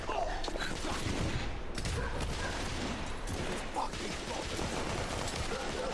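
Dense, continuous gunfire and combat noise from The Order: 1886 video game, a busy wash of shots and mechanical clatter at moderate level, with voices mixed in underneath.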